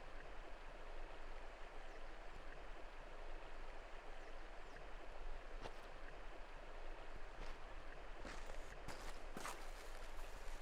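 A river flows steadily in an outdoor Western setting, a broad continuous rushing wash of water, faint and constant throughout, with a few brief clicks and knocks near the end and no voices.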